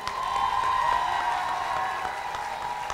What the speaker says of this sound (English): So you should give yourself a round of applause.